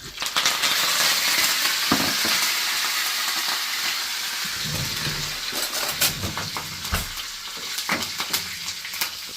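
Leaves sizzle and crackle in hot oil, with sharp pops and spatters over a steady frying hiss.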